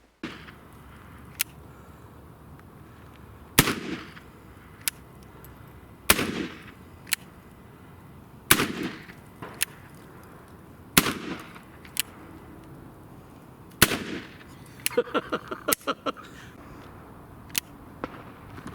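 An 1860 Army .44 revolver fires a series of loud, sharp single shots spaced a few seconds apart outdoors, with a quicker cluster of cracks near the end and quiet gaps between.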